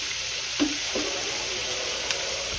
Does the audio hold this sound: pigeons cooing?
no